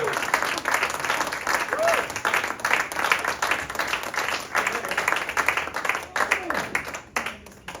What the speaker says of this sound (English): Let's have one more round of applause for Chris